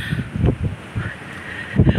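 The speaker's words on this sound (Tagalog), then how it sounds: "Malamig ang simoy ng hangin." Cold wind buffets the microphone at Tagaytay in uneven low gusts, loud and close, rising and falling in short bursts.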